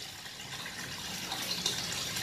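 Water pours steadily into a tarpaulin fish pond, a continuous broadband gush without any voices, holding a fairly even level across the whole stretch.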